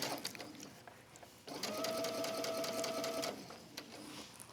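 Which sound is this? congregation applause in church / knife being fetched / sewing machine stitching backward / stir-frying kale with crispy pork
sewing machine stitching backward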